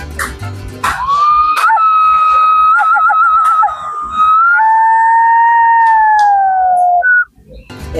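A handmade clay coyote whistle from Teotihuacán, made of black clay with stone inlays, lets out a loud, sustained whining howl that slides up and down in pitch for about six seconds, then ends with a short yip.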